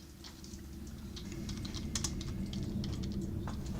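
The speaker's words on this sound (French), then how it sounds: "On peut également voir ce qu'elle est en train de taper sur son clavier." Rapid typing on a computer keyboard, a steady stream of close, light key clicks over a constant low background hum, with no talk.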